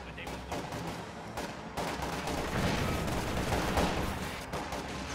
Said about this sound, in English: MG-34 suppresses that squad.